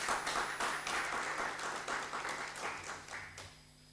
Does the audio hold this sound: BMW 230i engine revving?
no